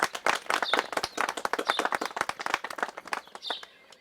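An audience at a public welcome ceremony applauds a district magistrate, producing a dense, steady burst of many hands clapping at close range for about four seconds, fading slightly at the end, with no talking over it.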